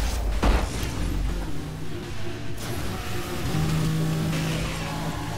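Car in the racing game Burnout Paradise revving hard and accelerating, a loud steady engine roar with a brief tire-squeal edge, heard alone without talk.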